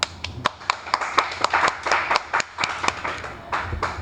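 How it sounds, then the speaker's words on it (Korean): A few people clap in a classroom lesson on applying screw clearance standards to a shaft, a sparse uneven string of sharp, close hand claps over about four seconds with faint room noise between. "박수"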